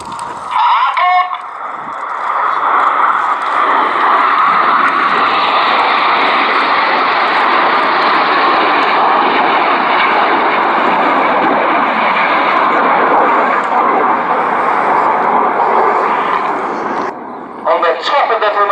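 Panavia Tornado jet flying past at an air display, a loud sustained broadband roar that swells and holds for many seconds before fading, with an announcer talking over it.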